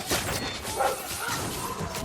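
Stray dogs in the video game Dragon Age 2, with a short bark and yip sounding over game ambience, fairly close.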